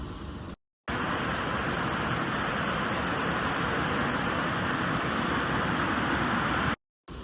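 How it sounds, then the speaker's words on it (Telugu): Heavy rain pours down in a dense, continuous roar, steady and close, with no other sounds standing out. "ఓ ఫుల్ వర్షం పడుతుంది"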